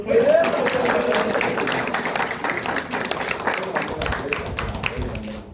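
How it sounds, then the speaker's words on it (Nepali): An audience claps together at an engagement ceremony, producing a steady, dense patter of applause that holds throughout with slight dips, while voices murmur underneath. "ल ताली बजाइदिनु।"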